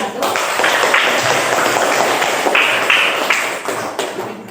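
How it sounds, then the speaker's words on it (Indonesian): A classroom of students claps for a presenting group, a steady, fairly loud patter of many hands that continues throughout with some scattered voices underneath. "Kira berikan tepuk tangan yang meriah untuk kelompok 1"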